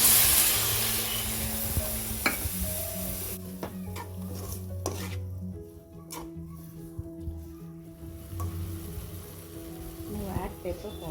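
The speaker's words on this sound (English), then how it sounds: "Now add the mutton stock." Mutton stock goes into cabbage in a hot pan; a loud initial hiss fades into softer sizzling and stirring, with metallic pan clinks and a low background hum throughout.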